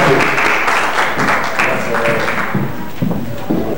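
An audience at a university tuna music ceremony in Bogotá applauds a master of ceremonies. Loud, uneven clapping with some thumping hits fills the stretch, mixed with crowd noise.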